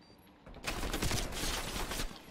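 A continuous burst of rapid video game gunfire, loud and steady, runs for about two seconds after a quieter lead-in.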